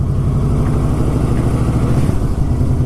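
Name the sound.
Yamaha Royal Star Deluxe motorcycle engine rumble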